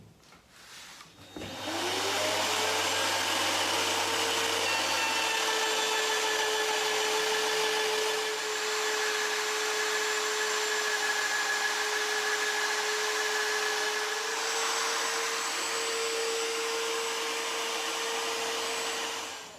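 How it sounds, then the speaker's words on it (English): A router fitted with a flat 3/4 inch bit spins up and cuts into wood with a loud, steady whine that holds for the whole stretch, close to the listener with no talk. "on the router, I am using a flat 3/4 inch blade or bit"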